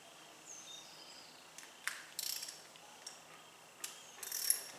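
A dovetail adapter clicks and ratchets tight as a red dot sight is mounted on a Diana Chaser .22 CO2 pistol, with several short, quiet mechanical clicks and rasps spread over a few seconds in a quiet room.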